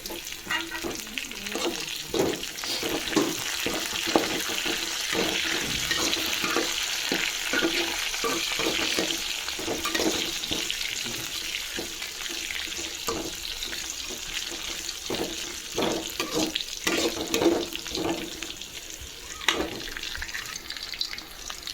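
A pan of fish curry with fenugreek seeds and curry leaves splutters nearby, with a constant sizzle full of rapid crackling pops and frequent stirring scrapes throughout.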